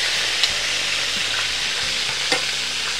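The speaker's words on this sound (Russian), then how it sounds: "Кто нет, переворачиваем, пусть дальше жарится." Sausages fry in a pan over a campfire, giving a steady broad sizzle with a few louder pops and crackles throughout, close and continuous with no talking.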